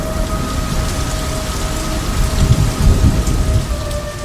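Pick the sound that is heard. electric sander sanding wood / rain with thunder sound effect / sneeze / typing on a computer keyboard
rain with thunder sound effect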